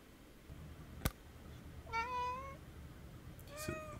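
Two drawn-out cat meows, one in the middle and another near the end, standing fairly clear over a low background hum, with a sharp knock just before the first.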